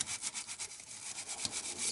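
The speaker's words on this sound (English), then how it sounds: "Scrape off the mud there." Mud is scraped off an Arrma Outcast 1/8 RC car, a close, fairly quiet rasping scrape repeating in short rough strokes.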